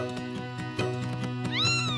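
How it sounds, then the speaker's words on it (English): A tiny newborn kitten with eyes still closed meows repeatedly, thin, high, close-up cries in quick succession, the last one rising and louder. "You made such tiny little meows."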